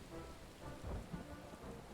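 Steady rain hisses in Final Fantasy XIV, with a brief low rumble of thunder rolling under it near the middle, alone without voices.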